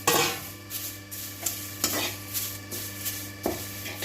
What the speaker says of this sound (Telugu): కరివేపాకు బాగా డ్రై అవ్వాలన్నమాట. ఇలా పట్టుకుంటే ఇలా ఇంకా ఫ్రై అవ్వాలి. ఇవి ఇవన్నీ ఆల్మోస్ట్ ఫ్రై అవుతున్నాయి.